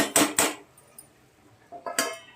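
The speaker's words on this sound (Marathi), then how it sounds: "आता छान झाकण ठेवूया." A metal lid is set onto a cooking pot of keema, two sharp close clanks in quick succession, then a short quiet spell, a lighter rattle, and a final clink as it settles.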